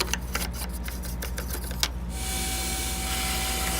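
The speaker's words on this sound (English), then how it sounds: "with a vacuum" A vacuum cleaner working inside a dirty desktop computer near the main intake fan, first a series of sharp clicks and bumps over a steady low hum, then a continuous high-pitched whooshing suction with a thin whine, close and alone.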